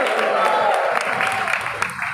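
A church congregation claps loudly in praise, a dense steady wash of applause filling the hall for a couple of seconds while a preacher's voice carries over it.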